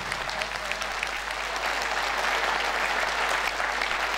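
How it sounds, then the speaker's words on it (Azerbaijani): Wedding guests at an Azerbaijani celebration break into loud, thunderous applause. The dense, continuous clapping fills the whole span at an even, close roar. "Mən elə bir gürültülü alqışlar istəyirəm ki."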